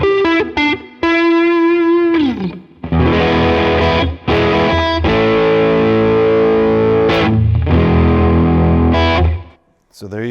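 A travel electric guitar plays through its neck pickup with heavy distortion, loud, thick chords and sustained notes ringing out with brief gaps between phrases.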